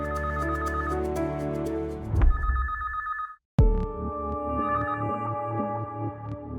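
A telephone rings with loud, repeated electronic trills, breaks off abruptly into a brief silence, then resumes ringing brightly and close by, alone with no talk.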